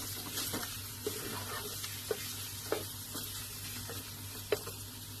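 Steady oily sizzle of ginger garlic paste sautéing in a pan, close up, with a few sharp taps of a spoon against the pan.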